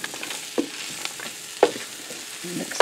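Tortilla soup ingredients sautéing in a Cosori multi-cooker, a hot sizzle broken by a few distinct scrapes and clinks of a stirring utensil against the pot, close and without talk.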